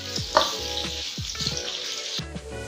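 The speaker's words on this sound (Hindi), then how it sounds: "ये प्याज को मैंने 4 से 5 मिनट ऑयल में फ्राई किया है" Chopped onions frying in oil over medium heat for a mutton masala gravy, a steady close sizzle broken by a few scraping stirs, with no talk.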